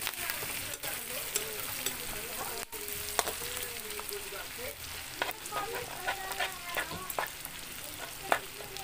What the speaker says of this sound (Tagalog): Hintayin na natin siya na maluto ang ating alamang bago natin siya bubuhusan ng ating susunod na ingredients